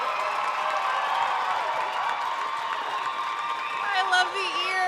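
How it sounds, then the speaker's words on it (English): An audience at a school student musical showcase applauds and cheers in a steady wash of crowd noise, with scattered shouts and whoops rising near the end. "Give them another big round of applause."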